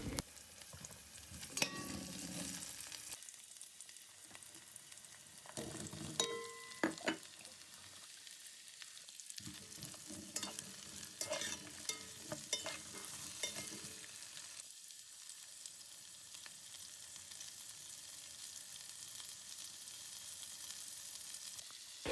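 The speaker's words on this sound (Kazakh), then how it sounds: "Мінекей жақсылап қуырып алдық." Vegetables with garlic frying in a pan for pumpkin soup, a close, quiet sizzle broken by scraping stirs and clatters at intervals, with no talk.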